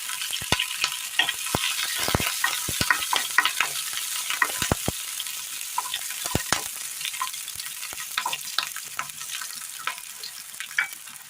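Hot oil sizzles steadily as sliced green chillies fry after mustard seeds splutter, sharp pops and crackles bursting out irregularly, close and fairly loud, with no one speaking.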